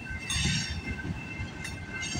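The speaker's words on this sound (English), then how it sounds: "there might be a train racing or a meet going by" A CPKC freight train hauling auto racks rolls past the Guelph Line level crossing in Campbellville, Ontario, with a steady rumble of wheels, rhythmic clicking and a faint high squeal, heard at moderate distance.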